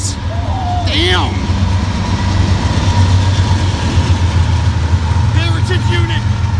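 Conrail 8098 leads NS 29G, a freight train with five locomotives, passing close by as a steady loud diesel rumble and rolling rail noise, with brief squeals and voices talking over it.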